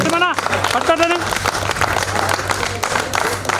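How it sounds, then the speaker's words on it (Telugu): An audience claps at a stage event where a guest is being honoured with a shawl. The brief, dense applause runs under someone speaking over a microphone. "అందరు చప్పట్లు కొట్టాలి."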